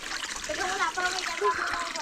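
Icy cold water splashes and trickles from an improvised outdoor shower, a close, steady spatter running under people talking throughout.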